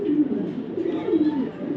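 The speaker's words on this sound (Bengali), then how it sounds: "শুধু আজকে মিলি রেসার মাদিটা দেখেন মাশাআল্লাহ" A female Mili racer pigeon gives soft, throaty coos up close, low rolling calls rising and falling in a gentle repeated rhythm.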